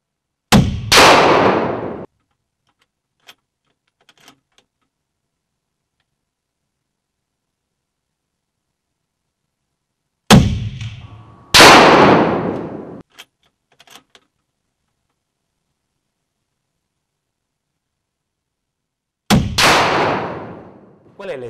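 Rifle shots fired during ballistics tests at a shooting range, four sharp loud cracks each trailing off into a decaying echo, spaced apart by long near-silent pauses with faint clicks between.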